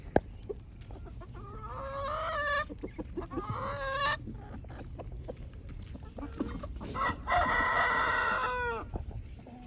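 Rooster in a farm chicken coop crows twice, a few seconds apart, close and clear over a quiet background of soft clucking.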